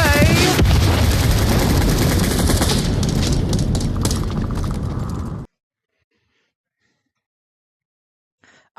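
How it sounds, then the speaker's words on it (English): Bombs going off in a video game, a dense, loud roar of blasts and rapid booms for about five seconds that cuts off abruptly into near silence. "Monster, explosive delivery, mo."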